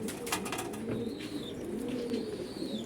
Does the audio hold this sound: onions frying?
no